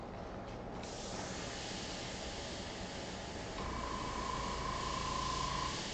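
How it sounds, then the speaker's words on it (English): An airbrush sprays thinned marker-style paint while a Ferrari F40 LM is being drawn, giving a steady, close hiss of compressed air that runs unbroken, with a thin whistling tone joining partway through. "Now the airbrush is working a little bit more correctly."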